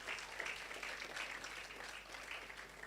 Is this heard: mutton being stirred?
no